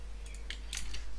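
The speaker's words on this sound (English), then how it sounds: "sorry about the typing, guys, I was trying to figure out where Mineski was" Quick bursts of computer keyboard typing during a Dota esports broadcast, a few sharp clustered clicks over about a second, close and fairly faint against steady background hum.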